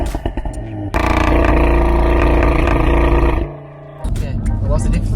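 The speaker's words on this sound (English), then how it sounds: "that sports exhaust sounds bang on" Audi S3 8V with a sports exhaust, a loud, close engine drone holding steady for a few seconds, then dropping away before returning, with people talking around it.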